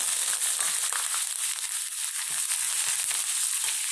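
Whole peppercorns, cumin seeds, curry leaves and green chillies frying in hot oil for pongal, a steady dense sizzle with scattered small pops and crackles throughout, close and loud, with no talking.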